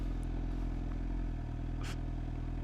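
Suzuki GSX-R 750 engine idling low and steady as the 2025 motorcycle creeps along on the clutch friction zone, a close rumbling drone with a brief scrape near the end.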